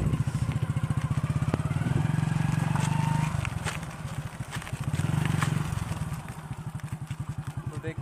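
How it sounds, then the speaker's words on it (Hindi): A motorcycle pulls away as the clutch is let out and the throttle is eased open, its steady engine pulse rising slightly and staying close and fairly loud throughout, with a brief dip midway. "तो देखिए बाइक बढ़ने लगेगा"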